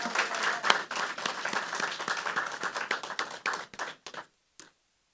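Applause for the 2022 Richland One Hall of Fame induction class fills the room with dense, steady clapping from an audience, then thins out and stops with a few last claps.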